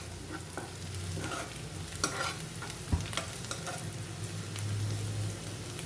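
Onions fry in a pan with a constant crackling sizzle, broken by a few sharp stirring knocks and scrapes from a utensil, all close and without talk.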